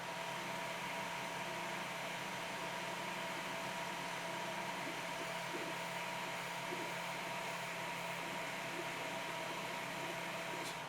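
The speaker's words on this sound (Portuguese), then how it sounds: "Vocês estão ouvindo o som do cooler dela" A steady, faint whirring hum of the small cooling fans of a Longer LK4 Pro 3D printer runs continuously, with a soft constant hiss and no other sounds.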